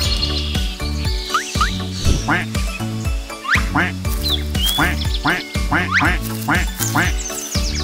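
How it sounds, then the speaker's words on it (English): Duck quacks repeat in a steady rhythm over bouncy music in a children's nursery rhyme song. The quacks are loud, close and come one after another. "Mommy duck said quack, quack, quack, quack"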